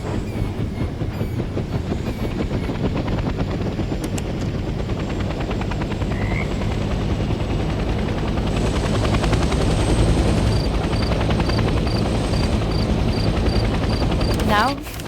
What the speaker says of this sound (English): The helicopter will now take off automatically and remain in a hover state.